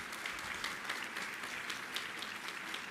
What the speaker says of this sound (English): a round of applause for our sponsors